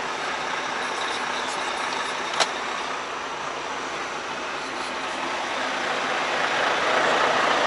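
A Volvo truck pulling away, its engine a broad steady rumble that holds level and then swells slightly near the end, with one brief sharp hiss or click partway through and no voices.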